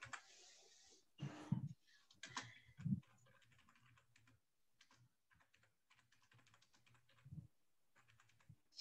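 Faint, scattered keystrokes tap on a computer keyboard in short irregular bursts, with a few louder thumps between stretches of near silence.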